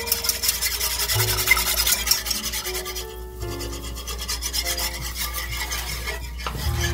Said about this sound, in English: Just using a little whisk. That helps break up the little flour clumps.